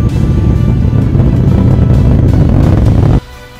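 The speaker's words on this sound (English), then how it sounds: "liftoff of the United Launch Alliance Atlas V rocket carrying satellites for Amazon's Project Kuiper Internet Constellation" Atlas V rocket engines during a launch carrying Amazon Project Kuiper satellites, a loud, continuous low roar that cuts off abruptly near the end, leaving a quieter hum.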